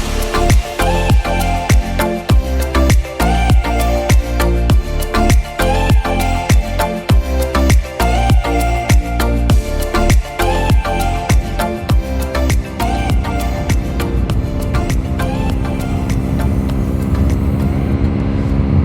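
A Triumph Daytona 675 motorcycle runs loud and close, its engine droning with sharp rhythmic pulses and shifting revs that climb toward the end, with no voices.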